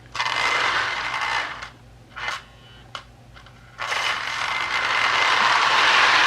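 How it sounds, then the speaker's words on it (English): A Lionel 1668E toy train's E-unit reversing mechanism cycles with loud mechanical buzzing and ratcheting bursts, broken by brief clicks and gaps, over a steady low hum from the transformer. "I've got the E-unit cycling pretty nicely too"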